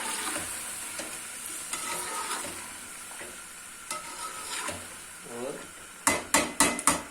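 A spoon stirs yogurt into chicken karahi in a pan, with low sizzling, soft scraping strokes, and a quick series of sharp metallic clinks against the pan near the end.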